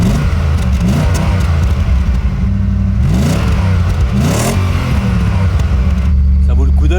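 A Ferrari V8 revs loudly and repeatedly, each blip climbing and falling sharply before settling into a throbbing idle, with someone talking briefly between the revs.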